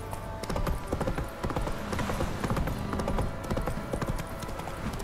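Hooves of the horse Roach in The Witcher 3, a steady clip-clop of galloping footfalls with an occasional faint whinny, continuous and fairly close, over quiet game ambience.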